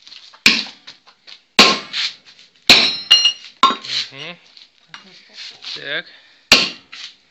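In a garage tyre repair, metal corner wedges are hammered in to seat a tyre bead: about six sharp, ringing metallic blows at uneven intervals, with lighter clinks and a brief spoken word between them.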